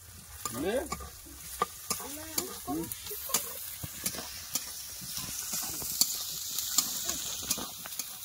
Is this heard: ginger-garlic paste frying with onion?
yes